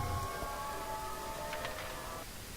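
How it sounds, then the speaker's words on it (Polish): Sirens in the video game Silent Hill 3, a faint sustained multi-toned drone holding steadily for about two seconds before fading, with a few brief higher blips partway through. "Te syreny są naprawdę przerażające."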